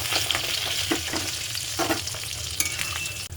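Paneer cubes fry in a pan of hot oil, giving a steady, close sizzle and crackle throughout with a few sharper pops, no voices.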